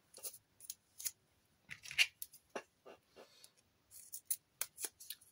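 Scissors snipping paper for an autumn moodboard, a series of short crisp cuts and clicks with brief gaps, close and quiet, no voice.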